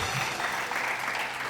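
Brief burst of dense applause from a studio audience on an Eid special TV show, continuous and even throughout.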